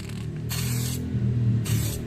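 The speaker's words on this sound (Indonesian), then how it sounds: "di sini gua mulai dari penyemprotan di bagian-bagian pinggirnya dulu" Spray gun painting motorcycle parts, a Megapro being repainted in red candy tone, starting along the edges: two loud hissing bursts of spray separated by a pause, close up, with a steady low hum underneath.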